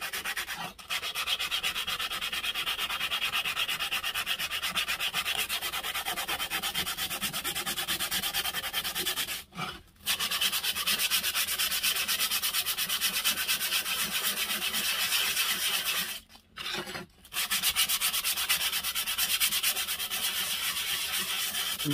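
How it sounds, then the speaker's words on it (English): Sandpaper rubbed steadily against a rusty Stanley 4 1/2 hand plane during restoration, a close, continuous rasping scrub with fast back-and-forth strokes, broken by two short pauses, no talking. "We don't want the sandpaper skating over, otherwise it's not going to cut, it's not going to do its job."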